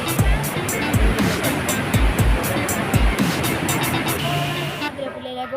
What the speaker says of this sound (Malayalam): വാഴച്ചാല് വെള്ളച്ചാട്ടം